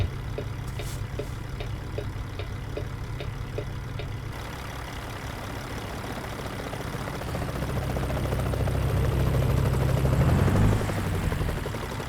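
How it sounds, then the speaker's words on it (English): A helicopter passes overhead in American Truck Simulator, a steady low rotor drone that swells louder toward the end, with a truck engine humming underneath. "Oh, yeah, there was a chopper flying overhead."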